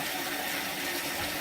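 Water gushes steadily into a brewing vessel for a home-brewed dark ale, a close, continuous pour with no pauses.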